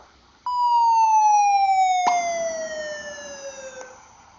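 A clear electronic tone from Desmos graphing software's audio trace starts abruptly and glides steadily downward in pitch for several seconds, tracing a downward-sloping curve, loud and alone, with a brief click midway.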